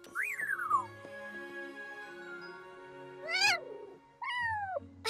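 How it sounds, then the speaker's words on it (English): A kitten in a cartoon meows in three separate high, rising-and-falling cries at the start, middle and end, clear and close with short pauses between them. "A Tuca kitten. Oh, she's precious."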